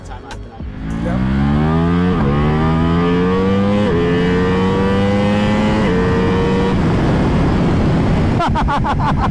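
A Ducati Multistrada V4 RS engine revs hard through a top-end run, loud rising howls climbing gear by gear with short dips at each shift, close and dominant.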